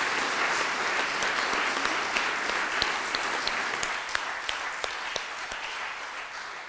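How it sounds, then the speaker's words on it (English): An audience at a Sai Educare Centre gathering applauds in a tribute, with dense, sustained clapping from many hands and a few sharper individual claps standing out, steady throughout with almost no talking. "let us put our hands together once again and clap and acknowledge him for everything that he's done"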